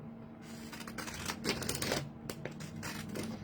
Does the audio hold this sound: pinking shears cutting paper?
yes